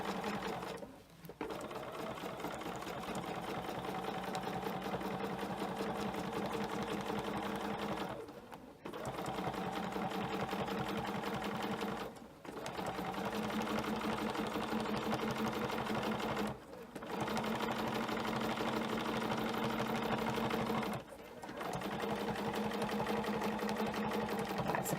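A sewing machine stitches through a quilt sandwich with a ruler system, running in long steady bursts of rapid needle clatter, stopping briefly between runs.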